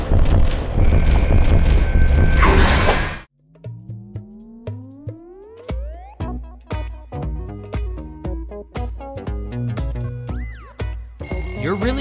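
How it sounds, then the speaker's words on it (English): Nightmare Catnap's voice from the video game Poppy Playtime 3: a loud, harsh burst gives way to eerie, gliding, warbling tones and a steady run of pulsing, chime-like notes, with no plain talk. "this is Nightmare Catnap"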